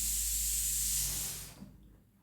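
Masala for crab masala sautéing in a pan gives a loud, steady hiss that fades out after about a second and a half, leaving quiet kitchen sounds.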